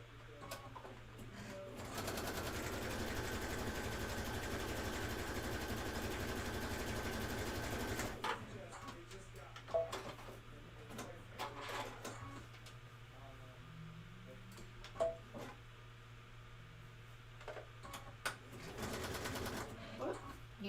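A sewing machine quilts borders at full speed, running in a steady loud whir for several seconds, then stopping, followed by quieter handling clicks, brief bursts and some talk.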